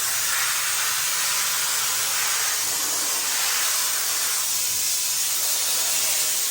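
A Chief steam cleaner blasts dirt off with a continuous, loud, close hiss of high-pressure steam that holds steady without a break.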